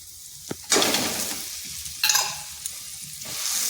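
Mashed boiled potato being stirred into fried spices in a pan, with two sharp scraping bursts of stirring over a steady close sizzle and no voices.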